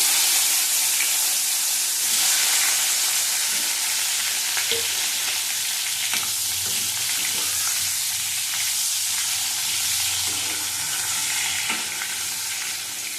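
Eggplant pieces with nigella seeds fry in hot oil in a Bengali kitchen, giving a steady, loud sizzle that runs throughout, with occasional soft stirring knocks and no voices.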